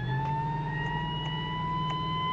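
A police car siren in BeamNG.drive wails as a steady, loud, sustained tone over a low engine rumble, with no speech.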